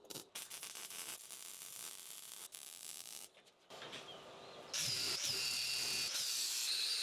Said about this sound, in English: So let the welding begin.